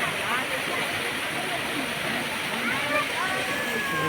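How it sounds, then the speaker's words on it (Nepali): A stream rushing through Rock Garden, Darjeeling, a dense, loud, steady roar of running water, with a person talking over it. "त्यो चाहिँ बर्खामा फेरि ठुलो हुन्छ खोला"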